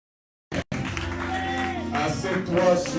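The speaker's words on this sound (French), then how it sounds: "Continue à t'applaudir." A church congregation claps during a sermon, a short burst and then sustained rising applause mixed with voices and a faint musical tone after a moment of silence.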